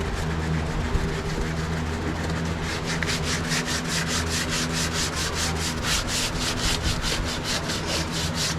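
Dual-action sander working a rusted VW rocker panel: steady, continuous loud grinding hum with a rhythmic pulsing rasp building in the second half, no talk.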